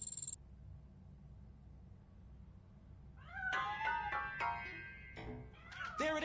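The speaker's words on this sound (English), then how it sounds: "That cat must be hiding inside." A cat meows from inside a piano with several plaintive, rising calls in close succession after a quiet stretch, moderately loud over faint room noise.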